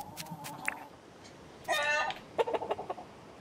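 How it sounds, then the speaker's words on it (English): Chicken clucking in the farming video game Dinkum, with short bright chirpy calls in quick bursts near the start, middle and end, fairly close and moderately loud, alone without talk. "pat our chicken."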